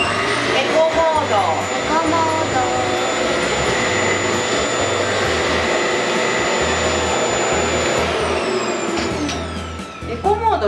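Toshiba TORNEO mini cyclone vacuum cleaner running in eco mode, a loud steady whine with a low pulsing hum close by. It drops away near the end, and a voice talks over it in places.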